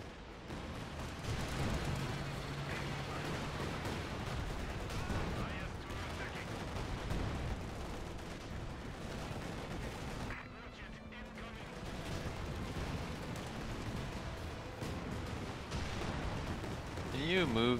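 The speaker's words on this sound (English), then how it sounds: "I'm just going to continue to Katusha their main infantry line." Katyusha rocket artillery barrages in a World War II strategy game, with dense rolling booms and crackling gunfire filling the mix continuously at high intensity, and a brief lull midway.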